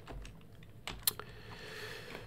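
Scattered keystrokes on a sluggish computer keyboard tap out in short, uneven bursts, close and fairly quiet, with one sharper clack in the middle.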